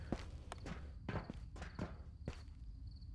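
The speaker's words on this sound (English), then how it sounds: "I swore I heard footsteps here." Footsteps in a video game come as several soft, irregular thuds spaced over a few seconds against a quiet background with a faint high ringing tone.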